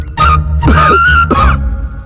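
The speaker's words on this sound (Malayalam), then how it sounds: "എന്താ ചുമയുണ്ടോ" Loud, close coughing in a few rough bursts, close to throat clearing, with short pauses between them.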